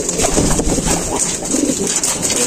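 Racing pigeons cooing up close, soft throaty coos repeating among rustling and shuffling, no talking.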